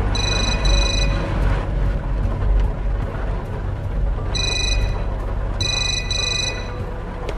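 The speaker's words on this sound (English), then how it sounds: "Is that the phone upstairs?" A telephone rings upstairs in a horror video game: bursts of an electronic ringing tone repeat over a dense, loud ambient drone, with a long gap before two later rings.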